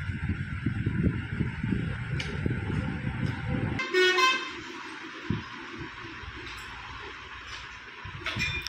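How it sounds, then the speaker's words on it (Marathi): Vehicle horns honk on a highway just beside an outdoor bike repair spot: scattered short toots, then one louder, brighter blast midway, all over a background of passing traffic. "तर हॉर्नचा आवाज येत असेल तर प्लीज इग्नोर"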